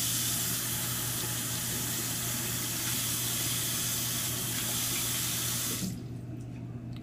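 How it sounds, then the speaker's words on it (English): Tap water runs steadily from a faucet to wet a makeup sponge, a continuous close splashing hiss that cuts off sharply near the end. "First though, I'm gonna wet my beauty blender."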